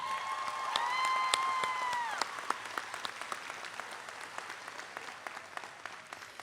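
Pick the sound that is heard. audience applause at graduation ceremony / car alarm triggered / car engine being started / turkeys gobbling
audience applause at graduation ceremony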